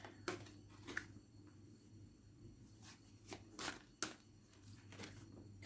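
Tarot cards being shuffled: faint, scattered riffling and slapping bursts of the deck come in short irregular flurries over a quiet, low background hum.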